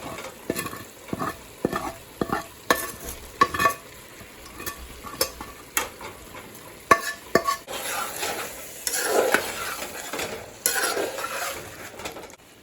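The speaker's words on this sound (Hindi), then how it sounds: "अब ये भिंडियाँ मैं इसमें डाल दूँगी और मिक्स करूँगी इसे।" Okra is tipped into a pan of cooking onions and mutton and stirred, bringing a run of rhythmic spatula scrapes and metal clinks over a quiet sizzle, with the frying hiss swelling toward the end.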